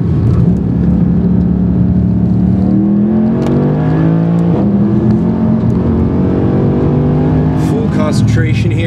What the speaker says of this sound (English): Oh, this is a wonderful car. It just feels good, and listen to the sound.